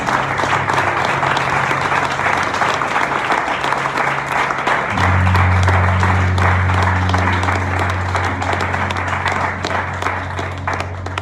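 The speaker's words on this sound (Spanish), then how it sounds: "Dale fuerte el aplauso al Rey de Reyes." A church congregation applauds loudly, a sustained roar of many hands clapping that fills the room, with a low steady musical tone humming beneath and rising partway through.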